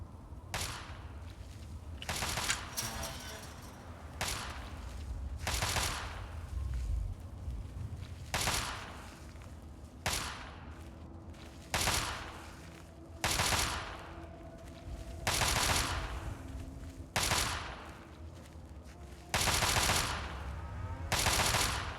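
Gunfire at a shooting range in the video game Fallout 3, about ten sharp bursts of rapid shots spaced a couple of seconds apart, loud and close with a low background hum between them.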